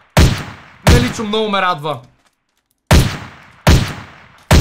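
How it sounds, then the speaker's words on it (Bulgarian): Gunshots from a firearm in a Minecraft weapons mod, video game: sharp loud bangs with decay, one shot, then a voice talking, then two more shots in close succession near the end. "звукът на стреляне е наистина доста реален и готин"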